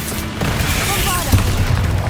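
A booming Bombarda explosion spell from Hogwarts Legacy, played on PS5, bursts out in a dense rumbling blast that swells again near the middle, with game voices and effects mixed in around it.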